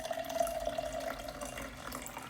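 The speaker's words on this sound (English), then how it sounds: "using 2 hands to pour the water into the clear glass" Water pours steadily into a clear glass jar, a continuous close trickling and splashing that fills the whole moment without talk.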